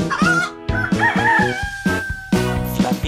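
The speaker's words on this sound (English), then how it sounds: "A rooster!" A rooster crows in a children's farm-animal song, its loud, drawn-out call rising over bouncy backing music with a steady beat.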